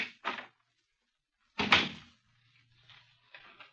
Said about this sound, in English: Behind this door...